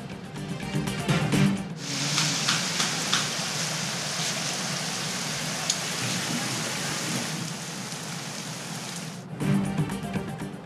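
Heavy rain pours down in the Thar region in a loud, continuous, hissing downpour that lasts for several seconds and ends abruptly.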